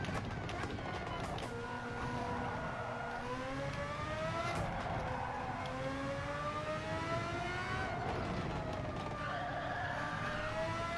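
Race car engine in Gran Turismo 7 revving under throttle, its rising and falling pitch sweeping up and down through gear changes, steady and loud throughout with a faint voice in the background.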